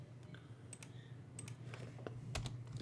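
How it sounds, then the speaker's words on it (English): Keys click on a computer keyboard, several light, close taps spaced unevenly over a quiet background hum. "just to push Q as in queen on the keyboard"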